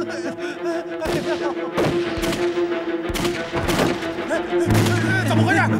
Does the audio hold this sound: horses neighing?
no